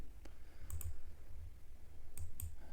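A few quick clusters of keystrokes clack on a computer keyboard while text goes into a web app field. Short bursts of two or three crisp clicks are separated by quiet pauses, close and fairly soft, with no one speaking.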